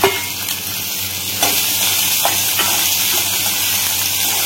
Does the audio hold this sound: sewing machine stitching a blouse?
no